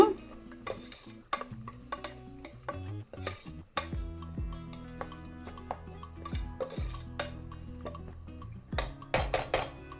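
A spoon scrapes and clinks around a pot as masala with chopped coriander and mint is mixed for cooker egg biryani, irregular metallic stirring strokes with sharp knocks against the pot, close and clear with no talking.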